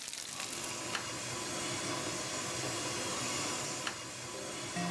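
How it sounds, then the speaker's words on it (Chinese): Crispy pork (su rou) frying in a pan at a Chaozhou restaurant, half pan-fried and half deep-fried, gives a continuous sizzle and bubbling with a couple of sharp clicks from utensils. No one speaks. "它是半煎半炸的"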